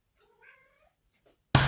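A single cat meows once, soft and fairly faint, followed by a brief quieter sound and then an abrupt loud burst of broadband noise at the very end.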